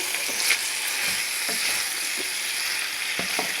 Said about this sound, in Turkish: güzelce sote etmeye devam ediyoruz